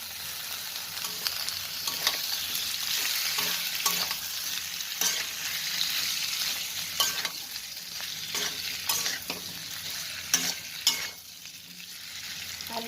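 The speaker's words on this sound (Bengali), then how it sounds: "ফ্লেমটাকে একটু কমিয়ে রাখলাম একটু ধনে পাউডার আলুটা দিয়ে দিলাম" Potatoes frying with coriander powder in a pan over a low flame, a continuous close sizzle broken by repeated sharp spatula scrapes and stirs, no voices.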